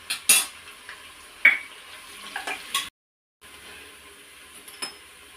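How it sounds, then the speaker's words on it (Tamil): Onions and curry leaves stirred in hot oil in a pan, with clinks of a metal spoon against the pan over a faint sizzle, the clinks close and irregular, with a brief silent gap. "ஆயில் நல்லா சூடாயிடுச்சு. இப்போ ஆனியன் சேர்த்துக்கலாம்."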